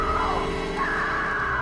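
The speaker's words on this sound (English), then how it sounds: "he hears his wife scream out his name" A woman screams out in the video game Alan Wake, a loud, sustained cry that carries steadily from start to finish without pause.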